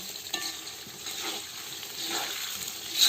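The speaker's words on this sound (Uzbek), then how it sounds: "Mana kartoshka biz ham qovurilyapti." Potatoes frying in oil give a soft, steady sizzle with light stirring clicks, fairly quiet and close, swelling slightly near the end.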